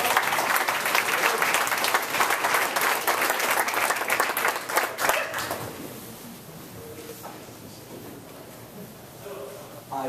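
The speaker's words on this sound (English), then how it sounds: "Let's give him a round of applause" Town hall audience applauds a high school student body president, a lively round of clapping that runs strong for several seconds and then thins out to scattered claps and a quiet room, with a dog barking briefly.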